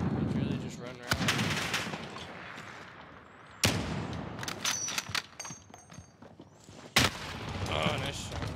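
Gunfire in Modern Warfare, loud sharp shots and rapid bursts scattered across the clip, some close and cracking, with voices talking between the shots.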